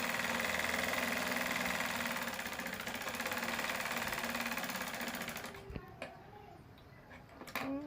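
A sewing machine stitches a blouse lining in a rapid, steady mechanical chatter for about five seconds, then stops, leaving a few faint clicks and handling sounds.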